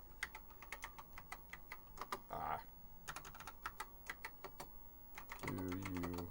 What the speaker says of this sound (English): Type it without the comma.